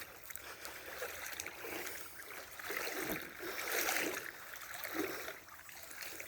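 Waterproof boots slosh and splash steadily through a cool forest creek, the water churning in uneven surges close by with no talking.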